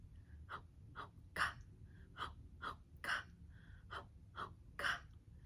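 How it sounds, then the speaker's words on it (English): A breastfeeding baby drinks with soft rhythmic sucking, swallowing and breathing, a steady run of about ten gentle gulps and breaths heard up close and quiet, with no talking. "you should be able to hear some active drinking noises"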